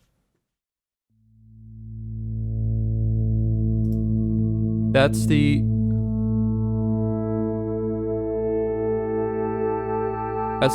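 A sustained, swelling DX7 synthesizer pad fades in and holds steady, rich and layered, with a brief spoken interjection partway through.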